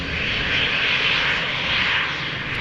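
A KLM Embraer 190 airliner departing Amsterdam Schiphol for Cardiff, its engines giving a steady, fairly loud roar that holds evenly, with no talk.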